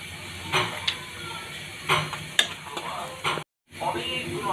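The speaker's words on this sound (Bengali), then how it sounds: "তেল গরম হয়ে গেছে এখন ফোড়ন দিয়ে দিচ্ছি এখানে হচ্ছে তেজপাতা এলাচি দারচিনি আর সামান্য জিরা" Bay leaf, cardamom, cinnamon and cumin crackle in hot oil in a pan, giving several sharp sizzling bursts with spoon and pan clinks, then a brief silent gap before the frying noise returns.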